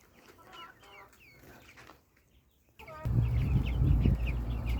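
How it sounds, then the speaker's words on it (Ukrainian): Two-month-old chicks cluck and cheep softly at close range, followed by a louder burst of rustling and clucking near the end. "Ось такі вже у нас курчатка їм вже по два місяці"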